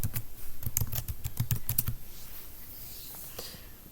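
Password keys typed on a computer keyboard while setting up a Windows Server 2012 domain controller: a quick close run of crisp key clicks for about two seconds, then quiet room tone with a faint stray tap.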